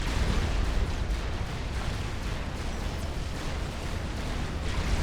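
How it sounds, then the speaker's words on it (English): Battleships bombarding shields in Supreme Commander during a 4v4 match, a continuous loud roar of blasts and explosions that merge into one dense, steady rumble with no speech. "There is only so much bombardment that your shields can take from battleships like this."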